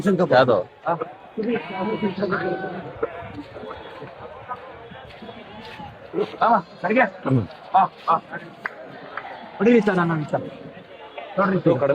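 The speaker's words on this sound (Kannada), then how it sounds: "ಓ ಕುರಿ ಕಣಪ್ಪ ಎಲ್ಲಾನು" Repeated sheep bleats, several animals calling in bursts at the Magadi goat and sheep market, mixed with people chatting nearby.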